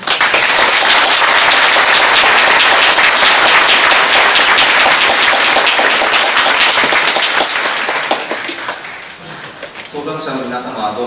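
Sustained, dense audience applause fills a hall after a panel discussion on the death penalty and judges at an October 2017 World Day Against the Death Penalty event, then thins out after about eight seconds as a voice speaks over the fading clapping.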